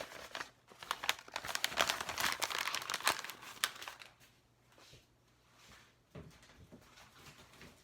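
Paper is crumpled and cleared off a work surface after painting, giving loud, close crinkling and rustling for a few seconds that fades to softer handling noises and a final sharp crackle.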